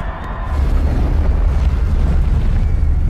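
Loud, sustained explosion rumble from a film scene of Bane blowing up strategic sites across Gotham, including a football stadium and bridges, a dense low boom rolling continuously for about three seconds after a brief quieter start.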